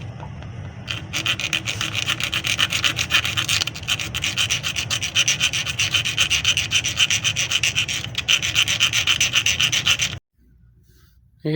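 A screwdriver scraping inside a metal pipe to cut out a broken tap thread, a close, continuous rasping grind for about ten seconds that stops abruptly, then quiet.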